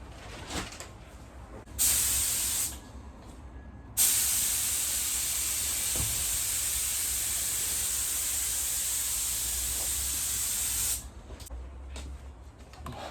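A second coat goes on with a spray gun, first a short burst and then a long, steady, loud hiss of spraying for about seven seconds, close by and without talk.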